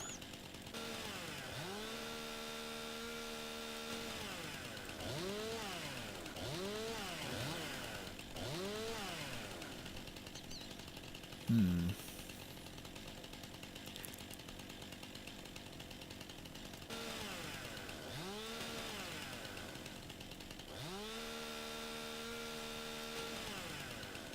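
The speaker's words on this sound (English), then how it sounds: "I don't know if I can do much of anything with a chainsaw." Chainsaw in the Farming Simulator 2019 video game, its engine droning steadily with repeated revving swells as it cuts at trees, with a brief sharp clunk midway and no talk.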